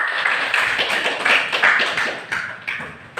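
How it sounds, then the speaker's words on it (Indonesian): A classroom of students claps in uneven bursts, a patter of close hand claps and taps rising and falling for a few seconds, with no talking. "Tepuk tangan untuk kita semua."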